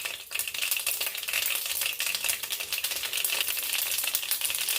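Mustard seeds splutter in hot oil, a dense, continuous crackle of rapid pops that stays loud and close throughout, with no voices.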